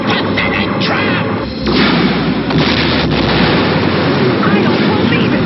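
Cartoon particle beam cannon firing, a loud sustained blast of roaring, crackling noise with repeated booming bursts, voices mixed in among the effects.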